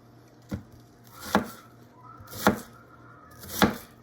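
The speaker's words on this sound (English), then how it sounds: "Doesn't do too bad for onions." A Cold Steel Recon Scout 3V knife chops through onions on a board, four distinct crisp thunks spaced about a second apart, close and clear against a quiet background.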